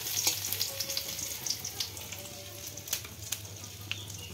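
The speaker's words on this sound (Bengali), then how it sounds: "তেলটা গরম হলে একটু আদা দিয়ে একটু নাড়াচাড়া করে নেবো" Ginger frying in hot oil with a steady close sizzle, stirred now and then with light scraping clicks, no voices.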